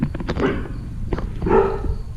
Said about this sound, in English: What are you barking at, Jessie girl?